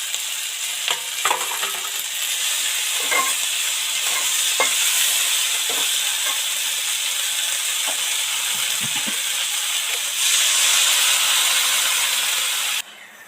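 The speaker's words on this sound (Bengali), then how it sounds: "তেলাকুচোর শাক দিয়ে বেশি নাড়াচাড়া করব না দু চার মিনিট নাড়াচাড়া করেই জল দিয়ে দেব" Ivy gourd leaves frying in a pan crackle with a constant close sizzle, broken by repeated scraping stirs of a spatula that grow louder toward the end before stopping abruptly. No one speaks.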